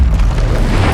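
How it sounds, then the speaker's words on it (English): A loud, booming rush of the Expelliarmus disarming spell being cast in Hogwarts Legacy, a dense low whoosh sustained through the short moment with a faint bright shimmer at the very end. "Expelliarmus."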